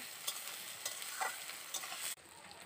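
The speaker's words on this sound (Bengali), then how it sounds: "এবার আমি এই উপকরণগুলোকে আবারও ভালো করে কষিয়ে নিচ্ছি।" Onion, tomato and ginger-garlic paste sautéing in a pan with stirring, a soft sizzle under light scraping strokes before it cuts off abruptly near the end; quiet overall and no voices.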